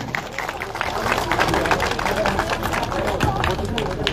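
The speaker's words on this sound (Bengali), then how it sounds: "সবাই মিলে একটু জোরে হাততালি হোক" Audience clapping at a West Bardhaman district primary school and madrasa event: dense, steady applause with crowd babble, loud and sustained throughout.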